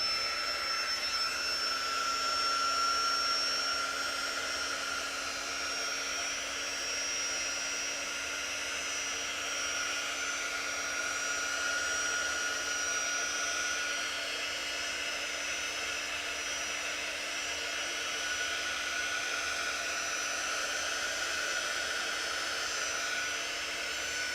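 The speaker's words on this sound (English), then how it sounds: "we can use our quick dry tool to dry it" A Chalk Couture quick dry tool blows hot air in a steady, unbroken whir that stays loud and constant for the whole stretch, with no voices.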